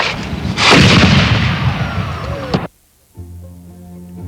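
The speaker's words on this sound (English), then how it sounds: "The gun brought up and cocked, and it was ready to fire." A colonial-era musket fired at Colonial Williamsburg gives one loud, sharp report that rolls on in a long rumbling echo and then cuts off, with a low steady hum rising after a short silence.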